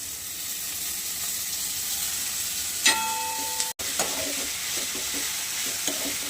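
Cluster beans frying in a pan with green chili paste give a steady close sizzle, with a sharp clatter of stirring near the middle and softer scraping after it.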